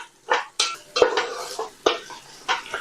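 A utensil scraping and knocking against a pot while onions fry in ghee, a sharp clatter every half second or so over a faint sizzle.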